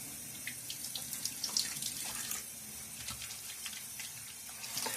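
A tap runs into a bathroom sink during a wet shave, a soft steady hiss of water with light splashing, heard alone and fairly quiet.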